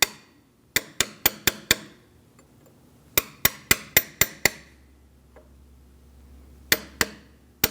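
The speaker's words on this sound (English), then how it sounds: "If you need to, gently use a punch and just give it a little tap" A punch is struck to tap a brake caliper piston into a front caliper on a 2000-2006 Mini Cooper. Sharp metallic taps come in quick bursts of five, then six, then two, each ringing briefly, close and loud.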